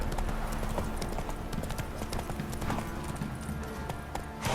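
Horse hooves clip-clop at a steady trot in The Witcher 3 video game, a continuous rhythmic beat over a dense background of game ambience and music, loud and close.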